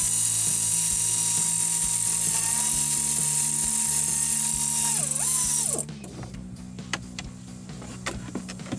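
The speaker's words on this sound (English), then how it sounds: "Remove those 2 bolts." A power ratchet spins close up for several seconds while removing small 10 millimeter bolts on a Jeep Gladiator, its whine dipping briefly as the bolt frees, then quieter clicks and handling noises follow.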